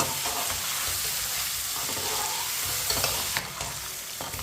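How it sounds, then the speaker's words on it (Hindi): A spoon stirs and scrapes a pulao mixture as it roasts in a hot pot for an Eid pulao, giving a steady, close sizzle with scraping strokes. No one speaks. "अब इसे 1 मिनट के लिए चम्मच चलाते हुए पका लेंगे, भून लेंगे 1 मिनट के लिए।"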